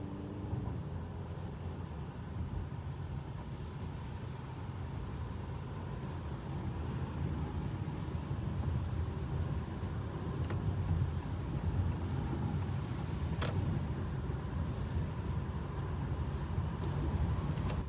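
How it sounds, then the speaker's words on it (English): Gasoline engine of a 2025 Honda Accord Hybrid cutting in while accelerating on a highway, a steady low road-and-engine drone that builds slightly and holds loud throughout, with no voices. "it kicks in the gasoline engine to supply more power to the wheels"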